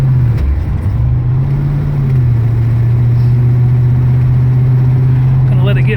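A 1971 Camaro SS with a 402 V8 idles as it warms up, a loud steady low rumble with a brief revving dip near the start, with people speaking over it.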